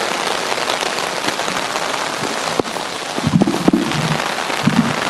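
Steady rain pours down outdoors at a graveside gathering in Kenya, a dense continuous hiss with a few louder drips and faint low murmurs partway through.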